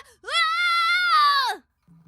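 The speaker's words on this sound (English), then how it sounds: "He soon lost his stomach, letting out a scream as he fell further blindly." A single drawn-out, high-pitched scream from Link, the young hero falling into a dark chasm, rises sharply, holds steady for over a second and then cuts off abruptly, leaving near silence behind.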